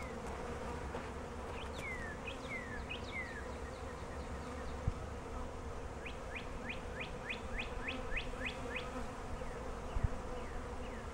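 Honey bees from a package hum in a steady, low drone throughout, while bird calls chirp repeatedly in the background.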